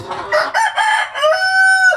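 An eight-month-old Basilan rooster crows once, loud and close, with a rising start and a long held final note that drops off at the end.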